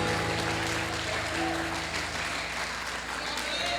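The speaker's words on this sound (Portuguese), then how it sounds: "Aplaude e glorifique ao Senhor Jesus." A church congregation at a Sunday service applauding, a steady dense wash of clapping through the whole stretch, with voices and sustained music tones mixed underneath.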